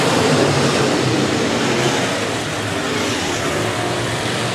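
Engines of B-Modified race cars roar steadily on the oval at Rapid Speedway as they battle side by side down the backstretch, a loud continuous drone with no break.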